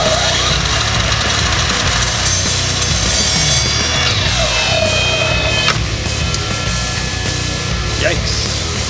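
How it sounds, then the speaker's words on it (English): A saw cutting the heads off cheap galvanized 3/8-16 bolts beside an upside-down 283 small block Chevy engine block, a continuous loud grinding, rasping cut with shifting pitch, close up, and no talking. "Alright, I'm going to cut 17 bolt heads off."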